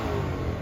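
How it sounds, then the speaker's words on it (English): An Audi's engine revs hard at a street car meet in Delray, a steady loud low roar held for the whole short moment with no pause. "Who revving his shit? Oh, it's the Audi."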